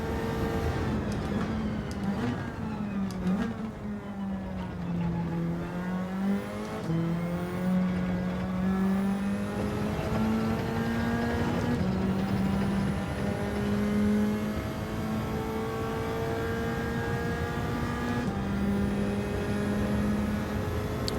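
A race car engine in Gran Turismo 7 drones steadily throughout, its pitch climbing and dropping with gear changes and throttle as the car laps a track, with faint tire noise.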